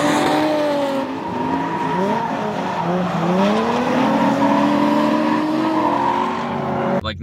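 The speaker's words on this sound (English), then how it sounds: "Like driving backwards down the track and then, like, making the corner somehow." A drift car's tires squeal in long, wavering, overlapping screeches as it slides backwards down the track through a corner, with engine noise underneath; loud and continuous for several seconds, no talk.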